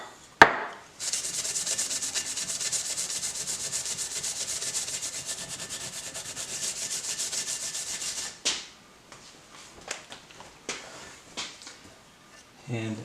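A Scotch-Brite pad scrubs a 2000 Mustang cylinder head clean in a steady, close rasping rub that runs for about eight seconds, then gives way to a few scattered scrapes and knocks.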